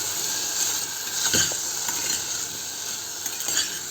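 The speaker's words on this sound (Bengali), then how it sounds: "এখন এটা কিছুক্ষণ ঢাকা চাপা দিয়ে ভাজা হবে।" Potatoes fry in a pan with a continuous sizzle, while a utensil stirs them in a few scraping strokes, the loudest near the middle.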